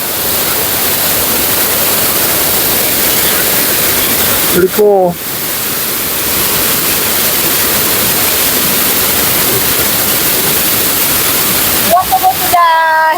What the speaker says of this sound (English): Got a lot of spray over here, trying to keep that off the camera. A little falls over here.